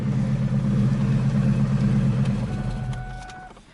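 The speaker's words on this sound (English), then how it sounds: "there's a quick little startup for you guys" A wrecked 2001 Ford Mustang Bullitt engine runs with a loud, steady low rumble close by, then eases off and fades toward the end.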